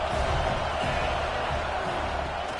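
A stadium crowd roars in an NCAA 26 college football video game, a steady, loud wash of cheering noise that holds unbroken throughout.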